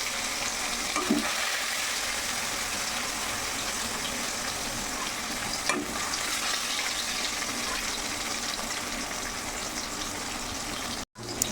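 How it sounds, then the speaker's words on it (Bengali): Steady, close sizzling of koi and catla fish frying in oil in a wok, a continuous crackling hiss with a few small spatters, no voices. "আমি মাছ ভাজা বসিয়ে দিয়েছিলাম কড়াইতে কই মাছ আর কাতলা মাছ"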